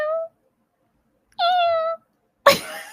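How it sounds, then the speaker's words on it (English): A cat meows twice, a short cry and then a longer, clearer one, with quiet gaps between them, followed by a brief breathy noise. "I think it was a cat."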